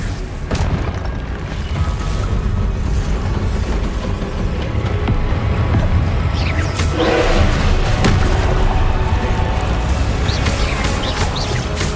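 Confringo blasting spells explode in Hogwarts Legacy: a loud, continuous rumble of deep booms and thuds with a dense battle din, one sharper burst standing out midway.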